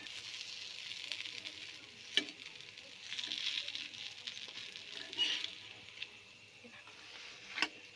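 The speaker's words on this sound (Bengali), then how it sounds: "আর বাকিগুলো আবার এরকম করে ভেজে নেব।" Food sizzling and frying in a pan while a healthy tiffin is made, a soft steady crackle with a few sharp pops and brief bursts of louder spitting.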